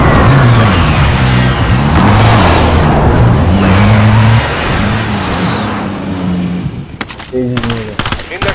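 A car in Call of Duty: Modern Warfare with a loud, droning engine that rises and falls in pitch as it drives, followed near the end by several sharp gunshot cracks.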